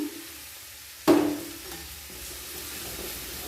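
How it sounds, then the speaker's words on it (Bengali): A cracked egg is stirred into a pan where it fries alongside beetroot and carrot. A sharp scrape of the utensil sets off a burst of sizzling that settles into a steady, quiet frying hiss. "এইভাবে ডিমটাকে এইভাবে ঘেটে দেব"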